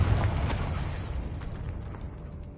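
A Confringo spell blast in the video game Hogwarts Legacy lands as a heavy booming burst at the onset, followed by a rumbling crackling tail that slowly decays, with no talk over it.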